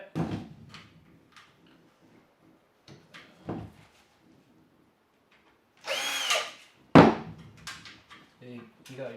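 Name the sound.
screwdriver undoing screws on Samsung washing machine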